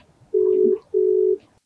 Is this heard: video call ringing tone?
yes